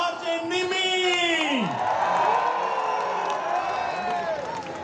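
At Global Village Dubai, a live crowd cheers and claps while a loud voice whoops and shouts up close, then falls, with the crowd's roar continuing throughout.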